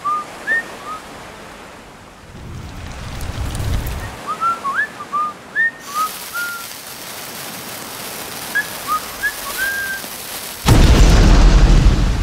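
A LEGO brick film explosion bursts in as a sudden loud boom with a rushing roar near the end, after quieter whistles, wave-like washes and an earlier muffled rumble.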